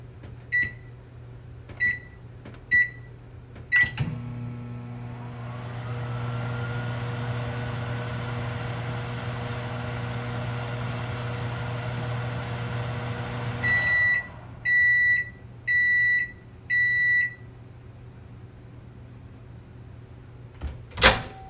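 A GE JNM3163DJ4BB microwave oven beeps a few times as its door is handled, then hums steadily for about ten seconds while running, and finishes with a series of loud end-of-cycle beeps, with no one talking.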